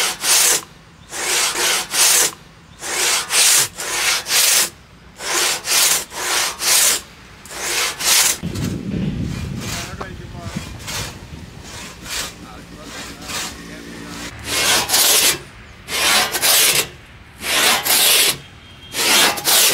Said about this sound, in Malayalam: ഒരാൾ അടിയിൽ നിന്ന് വലിച്ചു ഒരാൾ മുകളിലേക്ക് പൊക്കി ഇങ്ങനെ ഇങ്ങനെ ഇങ്ങനെ അറക്കാൻ തുടങ്ങുകയാണ്.